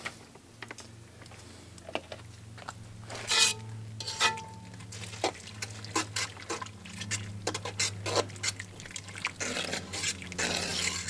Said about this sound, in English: Let's mix that up right there